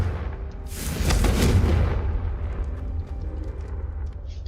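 Confringo spell explosion in Hogwarts Legacy, a loud bright fiery blast swelling over about a second then fading into low rumbling and scattered crackles.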